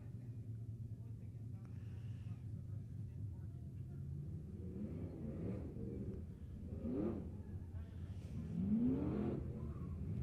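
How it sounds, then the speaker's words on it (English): USRA stock cars at Midway Speedway in Lebanon, Missouri, lining up for a feature race, a steady engine rumble with revving that swells toward the end, heard at a distance without talk. "We'll get ready for the Eagle Machine USRA Stock Car feature."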